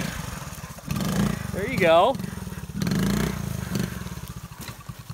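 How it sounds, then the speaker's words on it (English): A three-wheeler ATC engine runs and revs in bursts on a gnarly mountain trail, a steady low drone rising and falling throughout while people talk over it. "Day one, learning how to ride a three-wheeler."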